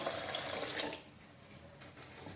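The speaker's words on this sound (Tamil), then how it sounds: "ஒரு டம்ளர் தண்ணி ஊற்றுறோம்" Water poured from a tumbler into a pot of cooked lentils for a simple home sambar, a close, steady splashing pour for about a second that then drops to a faint trickle and quiet.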